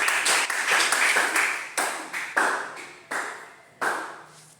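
Rhythmic clapping at a French-language religious gathering, sharp repeated beats with a ringing, echoing decay in a reverberant hall, about seven or eight strong claps over a few seconds.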